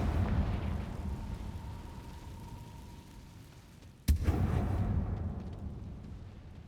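Confringo fire-blast spell exploding in the video game Hogwarts Legacy: one sharp, loud burst followed by a rumbling roar over a steady, rain-like ambient wash.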